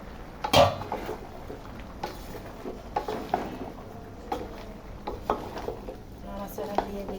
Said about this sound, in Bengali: একটু নাড়া দিয়ে আমি ভালোভাবে, ভালো করে নাড়া দিচ্ছি